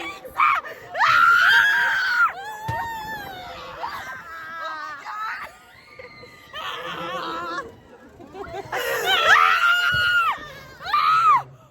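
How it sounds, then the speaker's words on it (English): A group of people scream together in loud, high bursts, trailing off into laughter and excited chatter before screaming again. "Did we scream the loudest?"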